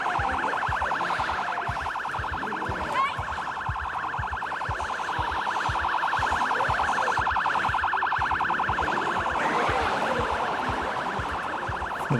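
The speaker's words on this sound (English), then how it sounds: "I need to turn off that damn siren." A warbling electronic siren in the video game Project Zomboid wails continuously and loudly, with a rapid pulsing pattern and occasional thumps underneath.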